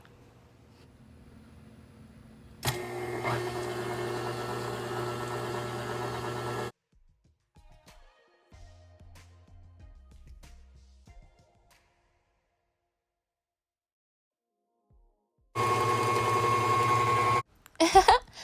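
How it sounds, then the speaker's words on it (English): An electric mixer on medium speed beats egg whites with cream of tartar and salt into a froth for French macarons, running as a steady loud whir in two separate bursts with quiet gaps between. "the mixture is ready to be beat on medium until it's nice and frothy"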